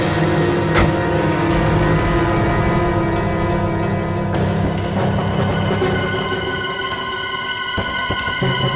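A car driving fast and accelerating on a road in a TV crime drama, a steady loud engine roar throughout with a brief sharp transient early on.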